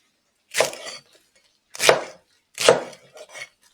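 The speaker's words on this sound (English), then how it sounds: "So we are chopping up our bok choy" A kitchen knife chops bok choy on a cutting board: three separate crisp chopping strokes, each followed by a short scrape, close and clear with no talking.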